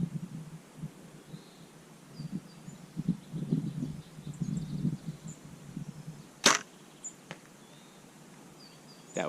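A bow is shot at a coyote target about 59 yards off outdoors, with one sharp impact crack standing out from quiet background rustle and faint birds.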